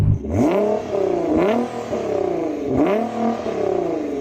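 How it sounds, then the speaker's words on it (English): A tuned 650-horsepower Nissan GT-R engine is revved repeatedly at close range, with three rising and falling throttle blips that end in loud roars and a little mechanical clatter. "Let's hear the last car, the 650 horsepower one."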